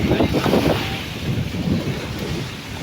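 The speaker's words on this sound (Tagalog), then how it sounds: "medyo malakas po ang hangin" Strong wind buffets the microphone in heavy, rumbling gusts, loud at first and easing slightly toward the end.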